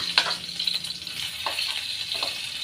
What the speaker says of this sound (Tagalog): yung tinupik natin garlic ay gigisa natin ng medyo brown na siya